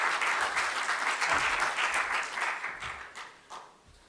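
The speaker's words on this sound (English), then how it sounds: "Let's give you a round of applause." Audience applause at a journalism conference on global elections and democracy in Sofia, a full burst of clapping from a room of people that thins and fades toward the end.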